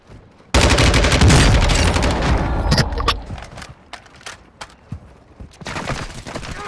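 Grenade blast and gunfire in the game Warzone 2: a loud, close burst of explosive noise hits suddenly and rumbles on, then scattered sharp shots crack and pop at varying distances.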